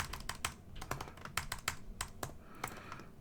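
Keys clatter on a computer keyboard as a file name is typed, a quick uneven run of close, crisp taps with short pauses, no voices.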